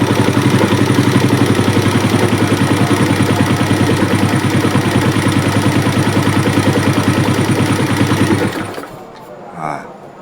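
A Suzuki Smash motorcycle engine struggling to hold a steady idle, suspected low compression, running close by with a fast, even ticking putter for about eight seconds before cutting out, leaving near silence and a brief faint sound.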